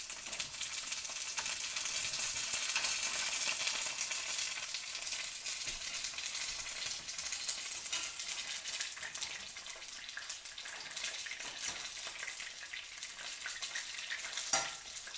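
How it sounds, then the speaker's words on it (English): Lumpia egg rolls fry in hot oil with a steady, dense hiss and sizzle broken by small pops and crackles, close and continuous, with no voices. "the popping is a good sound and it's not a sign that the oil is too hot"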